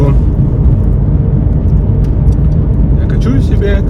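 Nissan Leaf electric car coasting in winter with regenerative braking engaged, a steady low road and tyre rumble with faint whir filling the cabin throughout, close and even.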